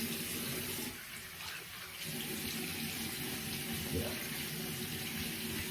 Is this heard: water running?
yes